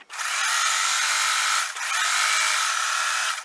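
Sewing machine stitching down a strip of fabric for a quilt block, a steady high whirring run with a short pause midway, close and loud.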